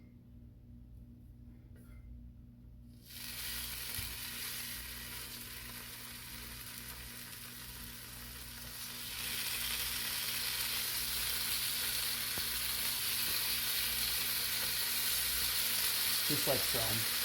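Bacon strips laid on a hot griddle, a faint hiss that jumps into a steady crackling sizzle and grows louder as more strips go down, continuous and close, with a brief spoken remark.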